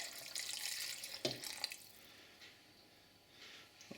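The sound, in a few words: stock being poured into a pot of beef stew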